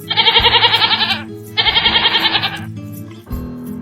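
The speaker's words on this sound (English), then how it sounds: "goat." A goat bleats loudly and close by in two long, wavering cries with a short gap between them, then a shorter third call begins at the end.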